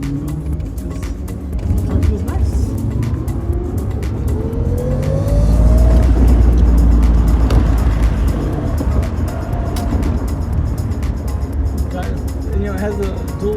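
An electric vehicle conversion car with dual AC51 motors drives and accelerates, a steady motor and road rumble swelling louder mid-run, with people talking over it.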